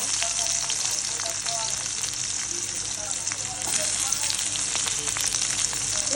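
Onion frying in hot oil with mustard seeds and curry leaves, a loud, continuous close sizzle with scattered small pops and crackles throughout, no voices.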